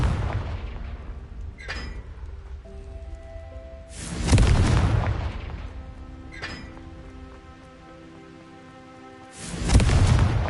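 Fiery explosion spell blasts in Hogwarts Legacy, with loud booming bursts near the start, around the middle and again at the end over a low rumbling game backdrop.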